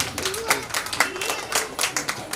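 Audience clapping at a Dr. Ambedkar Jayanti celebration and classes award ceremony, a brisk scattered patter of many hands, moderately close and continuous.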